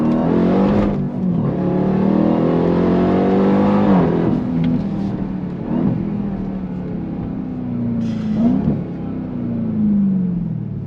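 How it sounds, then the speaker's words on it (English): A 2024 Dodge Durango Hellcat Black Edition, an all-wheel-drive SUV, accelerates hard on throttle: a loud, close engine roar climbs steadily through several gear changes with brief dips between them, and no one speaks. "On throttle, here we go. It just takes it."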